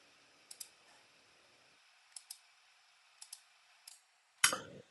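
Quiet, crisp computer mouse clicks arrive in several quick double pairs spread over a few seconds, followed by a louder knock at the end.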